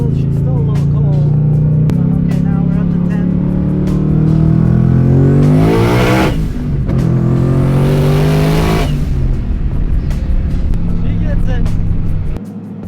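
A 1400hp sleeper Mustang, still a little cold and in normal mode, roars loudly on a street, its engine note climbing through hard acceleration with gear-change dips, close and continuous, while a voice talks over it.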